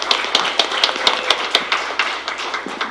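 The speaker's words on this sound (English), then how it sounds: "A big round of applause for Lincoln." Scattered, uneven hand claps from a small audience at a school district board meeting welcoming Lincoln Elementary School, a sparse patter of separate sharp claps with no talking.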